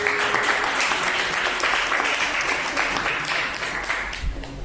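A church congregation applauds during a Sunday service, a steady dense wash of clapping that holds for several seconds with faint background murmur.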